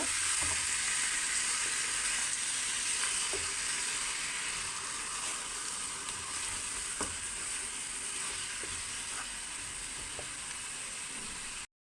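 Mutton pieces frying in hot oil to a light brown, a steady, close-up sizzle with crackling pops and occasional stirring clicks, no voices.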